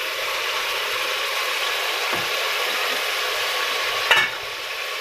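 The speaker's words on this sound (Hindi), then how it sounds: "थोड़ा सा मज़ीद भून लेंगे।" Masala for kaddu chicken stir-fried on a high flame after a few drops of water are added, giving a steady close sizzle with faint scraping and a brief clatter near the end.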